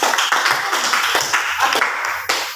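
Students in a classroom clap for a group after its presentation, a brisk, uneven patter of hands from a small group, fairly close and loud, with a few sharper claps standing out.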